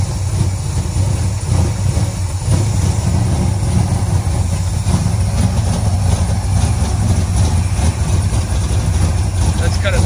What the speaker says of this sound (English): It idles right now. It wasn't doing that before until I put that new carburetor on it.